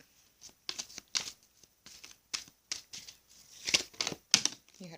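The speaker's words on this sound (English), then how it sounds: "I'm shuffling the Sage Goddess Gemstone Oracle deck, and I'm going to pull 2 cards for you from this deck as well" Crisp, papery shuffling of a Sage Goddess Gemstone Oracle card deck, coming in quick irregular bursts of riffles and slaps at close range, with no voice over it.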